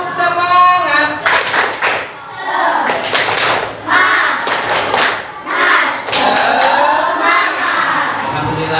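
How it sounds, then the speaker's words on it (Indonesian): Schoolchildren in a classroom perform a rhythmic spirit clap in bursts of clapping, mixed with their chanting voices, close and loud. "Coba tepuk semangat."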